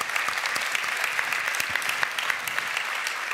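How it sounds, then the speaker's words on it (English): Steady applause from a conference audience, dense continuous clapping held at an even level for the whole stretch with no voices standing out. "With a round of applause."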